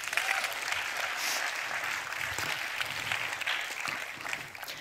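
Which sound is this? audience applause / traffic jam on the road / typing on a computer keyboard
audience applause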